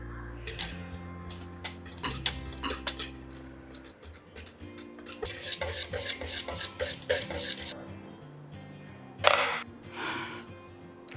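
Curd and salt being stirred into ragi ambali, with scraping strokes and occasional clinks of a utensil against the vessel, close up and over soft background music.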